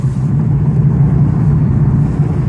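A 2015 Nissan 350Z's engine drones loud and steady from inside the car under acceleration, a constant low growl with slight pitch shifts as gears change, no talking.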